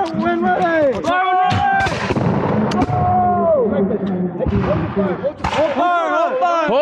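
Revolutionary War reenactors fire a musket volley at a 2023 Camden reenactment: a few sharp, booming cracks burst out amid loud shouted commands and overlapping voices on an open battlefield.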